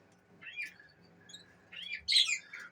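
Canaries in an indoor bird room give a few short, thin chirps and a brighter twittering burst near the end, fairly quiet over a faint room hum.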